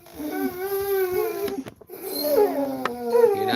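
A basset hound whines in drawn-out, wavering cries, then lets out a sharp short bark or two before whimpering again, close and fairly loud.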